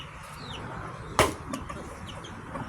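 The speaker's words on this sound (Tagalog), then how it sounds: "Daghanang manok guys" A flock of chickens in an outdoor yard clucking and chirping at a low level over background noise, with one sharp thump or wing flap partway through.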